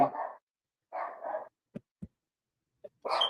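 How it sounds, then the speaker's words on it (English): A small puppy barks and yips close by: two short bursts of barking, then a few faint clicks and a brief whimper, then another bark at the end, with quiet gaps between. "Emotional support puppy. Can you hear him?"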